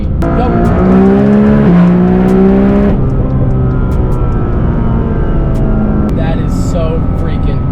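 A 1,200-plus horsepower Nissan GT-R at speed, its engine a loud rising howl through the gears, with clear shifts and tonal steps in pitch and a steady roar held close and continuous, alongside some speech in the cabin.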